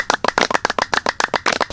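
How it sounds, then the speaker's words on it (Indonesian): Didong, a Gayo traditional performance of singing and clapping: rapid, rhythmic percussive claps and beats at a brisk, steady pulse, close and lively. "Oh, suara apa tuh? Suara didong ah."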